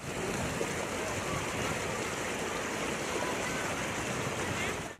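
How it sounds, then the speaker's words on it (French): Floodwater from the Lusidi river surges through homes and streets in Gatumba, making a steady, dense rushing roar that holds at one level throughout with no voices. "Ils ont été envahis par les eaux de la rivière Lusidi qui se répandent dans leurs ménages par vagues successives."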